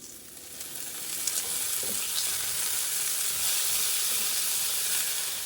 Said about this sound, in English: we're going to be putting 3 strips of bacon on the burner